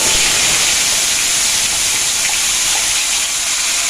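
Onions dropped into hot mustard oil in a kadai, giving a loud, close, steady hissing sizzle that holds evenly from start to finish.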